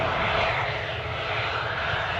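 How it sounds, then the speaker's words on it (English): A Jet2 airliner departs Newcastle airport, its engines producing a steady, broad roar that stays loud and even throughout, with no talking. "Jet2 departure off."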